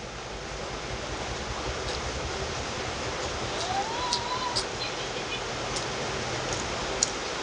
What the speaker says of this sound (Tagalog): lumalakas na naman, wala nang tigil yung ulan.